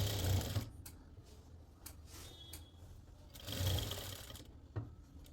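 A sewing machine stitches the neckline seam of a lined suit at a boutique, running in two louder bursts at the start and around the middle, with a lower whir and light handling noises in between.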